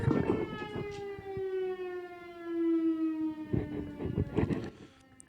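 A civil defense siren wails steadily near an apartment at noon, its long tone gliding slowly downward and rising again, loud and sustained alone without talk, with a few brief knocks and clatters mixed in.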